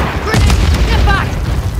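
A grenade explodes in Call of Duty Warzone multiplayer, a loud booming blast with crackling debris amid ongoing gunfire and game noise.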